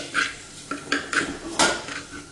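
A spoon scrapes and clinks against a pan while prawn masala with tomato is stirred, giving a quick series of close metallic knocks and scrapes with no talking.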